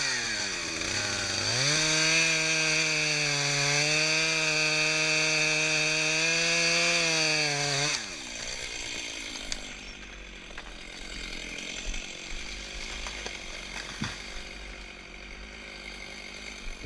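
Chainsaw cutting through the hinge of a felled tree, a loud steady engine whine that revs up and holds for several seconds, then drops away to low idle and scattered wood creaks.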